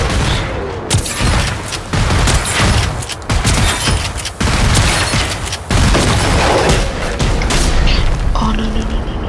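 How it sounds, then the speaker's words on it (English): Shotgun blasts in the video game Generation Zero, a burst of loud booming shots in quick succession, with a voice talking over the gunfire. "with this gun being a shotgun, obviously, it just causes lots of damage"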